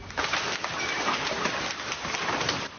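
Rain and walnut-sized hail pour down during a storm in Çeşme, İzmir, a dense, steady, close hiss of drops and pelting with no pauses and no voices.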